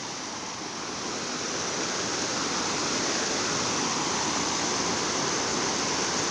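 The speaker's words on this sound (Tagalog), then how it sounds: "Masyadong malakas yung tubig dito guys." Broad, steady roar of strong rushing water at Bangon Falls waterfall, swelling slightly at the start and then holding constant and close, with no voices.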